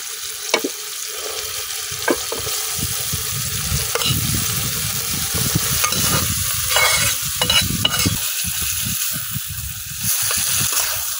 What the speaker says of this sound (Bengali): এখন লাইড়া ছেড়ে মশলার সাথে সুন্দরভাবে মিশাইলাম কলার মোচাটা।